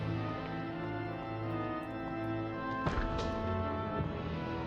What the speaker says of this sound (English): Oh, I just knocked over a vase.